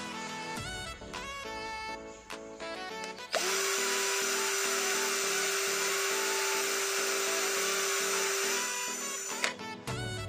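A cordless drill, model DCK KDJZ1602, runs in drilling mode at second speed, about 1567 RPM, giving a loud, steady high whine that holds for several seconds after shorter bursts of running and stopping.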